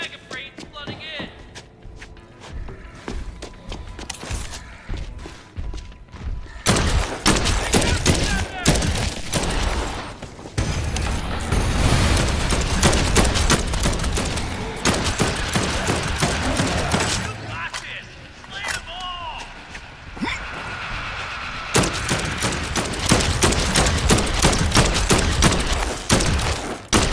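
Gunfire in Dead Island 2, dense bursts of rapid shots and heavy thuds in long loud stretches, broken by quieter gaps with scattered single shots.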